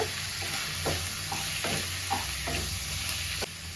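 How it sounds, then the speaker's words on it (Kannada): Chicken curry mixture with turmeric stirred in a pan, a steady sizzle of frying under soft repeated scraping strokes of a spoon, close and continuous. "ಇವಾಗ ಇನ್ನು ನೀಟಾಗಿ ಮಿಕ್ಸ್ ಮಾಡ್ಕೊಳ್ಳೋಣ"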